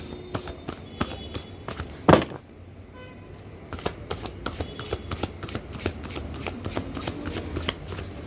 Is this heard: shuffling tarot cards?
yes